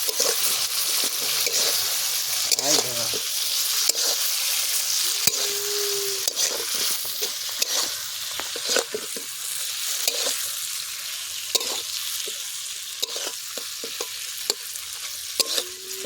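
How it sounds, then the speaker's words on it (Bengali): Egg pakoras for an Egg 65 dish frying in oil in a pan while being stirred, with continuous loud sizzling broken by frequent scraping and clattering strokes of the spoon throughout. "এবারে পকোড়াগুলো দিয়ে দিচ্ছি, চলো এবার পকোড়াগুলো দিয়ে দেবো"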